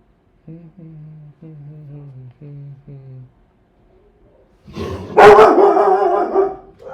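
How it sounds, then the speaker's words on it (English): A dog barks in a short run of five evenly spaced, close barks, followed after a pause by a loud burst of voice and noise. "Stop barking."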